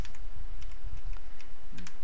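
Fast typing on a computer keyboard, close and clear, as a steady stream of key clicks over a low background hum.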